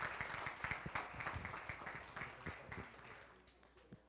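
A crowd of parents and children applauding at a school board of education meeting, dense overlapping claps that start full and gradually thin and fade over several seconds, heard from a distance in a large room.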